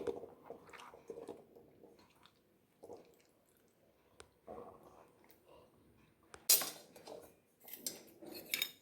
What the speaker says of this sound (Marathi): आता हा गर जो आहे तो असा सगळा चमच्याने काढून घ्यायचा आहे